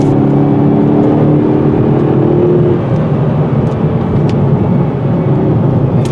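A 2019 Hyundai Veloster N turbo accelerating hard on a backcountry road, a loud, sustained engine roar heard from inside the car, with a steady low drone and rising pitch early on.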